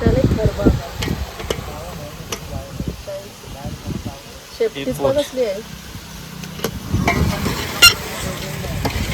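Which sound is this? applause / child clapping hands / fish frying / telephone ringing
fish frying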